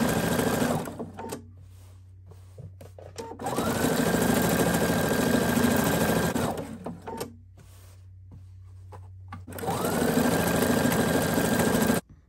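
A sewing machine stitches appliqué onto a T-shirt dress in three steady humming, whirring runs, each lasting a few seconds, separated by short quiet pauses.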